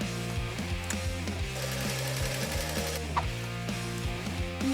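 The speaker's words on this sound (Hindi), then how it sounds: "सिलाई मशीन मेरी मदद करेगी।" A sewing machine runs in rapid mechanical bursts, its motor whirring and stitching in a chattering rhythm that starts and stops several times, fairly quiet and with no talking.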